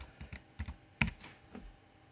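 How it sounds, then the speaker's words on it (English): Typing on a computer keyboard, a handful of quiet, close key clicks in uneven bursts, one sharper tap standing out, with no voices. "now if I just type this in"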